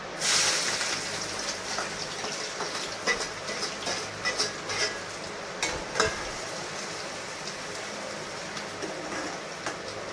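Onion tipped into hot oil already seasoned with a bay leaf and a dried red chilli, for a home-style paneer curry in a kitchen; a steady low sizzle with occasional stirring clicks runs throughout, fairly quiet.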